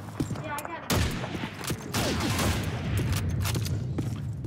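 Rapid gunfire from the World War II shooter Call of Duty 2 during online play, dense overlapping shots and bursts filling the whole stretch with a sharp blast near the start, loud and continuous under faint background talk.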